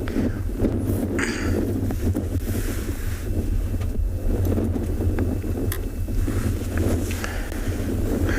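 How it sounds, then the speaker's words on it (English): Wind blows steadily across an open safari landscape at sunset, a continuous broadband rush with low rumbling buffets against the microphone throughout, no voices present. "the wind is blowing on a different direction"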